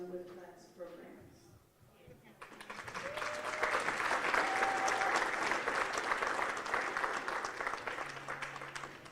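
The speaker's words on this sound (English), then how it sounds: "Can we give another round of applause to Youth Resources?" Audience at a gala breaks into loud sustained applause that swells and holds for several seconds, following a short stretch of speech at the start.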